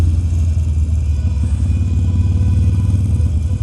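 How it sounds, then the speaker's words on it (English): Motorcycle exhaust pipes on a bike in Malta give a steady, close, low gargling rumble and purr that runs continuously without pause. "they gargle, they spit and purr, you know, they're fantastic pipes"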